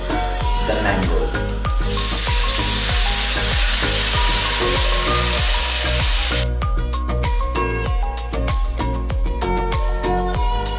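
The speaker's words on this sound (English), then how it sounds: "Stir the mangoes for over a medium flame for 2 minutes" Raw mango pieces fry loudly in a pan over a medium flame for pickle, making a dense hiss with repeated rhythmic scraping and knocking from stirring and a brief rush of louder sizzle midway.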